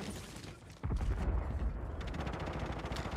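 SMG gunfire in Call of Duty: Warzone 3 erupts as a sudden dense burst of rapid shots, with a rattling stream of fire continuing close and loud after a quieter start.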